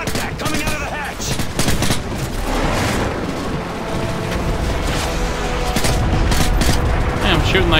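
Call of Duty Modern Warfare 3 gunfire rattles in dense automatic bursts with booms, a continuous loud barrage throughout, with voices faintly mixed in.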